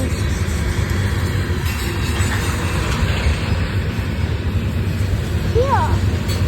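A freight train with a distributed-power locomotive rolls past, a continuous heavy rumble and wheel noise with faint squeals, close and steady, while people talk over it.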